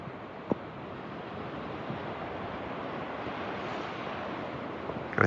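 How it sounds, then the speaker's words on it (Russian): Ocean waves break against the rocks below a seaside campsite at night, a steady low surf wash with wind buffeting the microphone, faint and distant, no talking. "Волны бьются."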